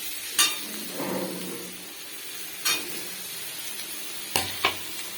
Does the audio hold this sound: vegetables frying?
yes